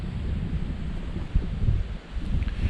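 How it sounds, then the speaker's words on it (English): Strong wind blowing steadily across a lakeside hammock campsite on a kayaking trip, a continuous low rumbling roar with gusty buffeting against the microphone and no voices. "It's still a bit breezy"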